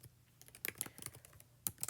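Light, close clicking of keys on a computer keyboard, a short irregular run of taps with brief pauses between them.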